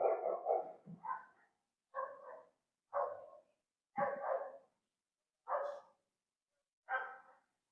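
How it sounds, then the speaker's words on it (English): Dogs bark in a series of about seven separate, evenly spaced barks against a quiet background, fairly close and moderately loud. "these dogs are barking"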